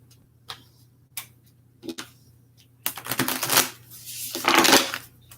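A few sharp isolated taps, then a flurry of papery riffling as tarot cards are shuffled close by, in two quick bursts.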